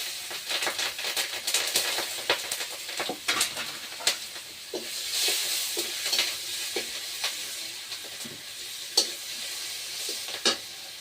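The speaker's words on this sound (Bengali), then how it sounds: "তো তেলে পেঁয়াজ কাঁচা লঙ্কা দিয়ে দিচ্ছি" Onion and green chilli sizzle in hot oil, with sharp crackles and scraping stirs breaking through the steady frying hiss; no one speaks.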